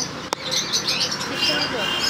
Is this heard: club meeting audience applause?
no